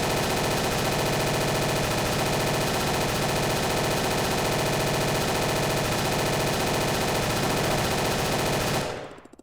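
A drum-fed machine gun in ArmA 3's Unsung Vietnam mod fires one long, dense, loud burst of rapid shots for about nine seconds before cutting off abruptly.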